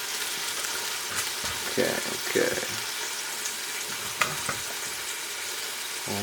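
Roughly chopped tomatoes cook down in a pan over a gentle sizzle, with a few stirring knocks and a sharp clink. A person speaks briefly.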